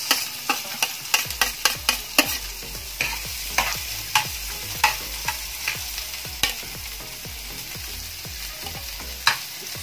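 Onion sautéing in a pan for corned beef spaghetti, with steady frying sizzle and sharp, regularly spaced clinks and scrapes of a utensil stirring against the pan, close and alone.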